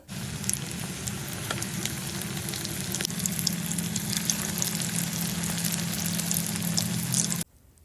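Chicken pieces deep frying in hot oil, a continuous loud sizzle and bubbling with faint crackles, steady throughout and cutting off abruptly near the end, no voices.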